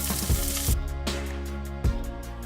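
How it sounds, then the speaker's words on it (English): Steak searing on a hot grill with the lid up, a steady sizzle under a humming background, with a few low thumps of handling on the grate. "I'm just trying to develop a sear."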